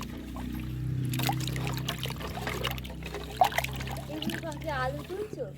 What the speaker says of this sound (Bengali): এই যে এতগুলো আলু গাজর জলে ধুয়ে নিই